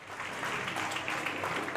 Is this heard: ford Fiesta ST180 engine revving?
no